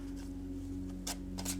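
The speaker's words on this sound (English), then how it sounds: "So now let's start shuffling." Tarot cards being shuffled, a couple of short crisp riffles close to the microphone over a steady low electrical hum.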